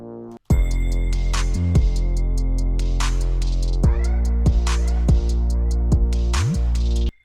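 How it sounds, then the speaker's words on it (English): A deep, gassy synth sub bass, buzzy and fart-like, throbs loud and close under a busy electronic track, with repeated low drops and pitch slides across about seven seconds before stopping abruptly. "we have the sub bass, which is called gassy because it sounds like a fart."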